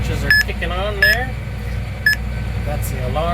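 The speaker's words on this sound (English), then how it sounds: "That's the alarm." An alarm on a Graham Command Pro electric drive control monitor for a sectional Landoll planter drill sounds three short, sharp beeps while planting, over steady engine and cab noise with a person talking throughout.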